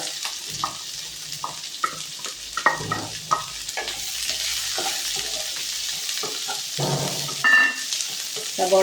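Sliced onions sizzle and crackle in hot oil with fenugreek seeds while a spoon scrapes and stirs the pan in irregular strokes, close and steady, with no talking.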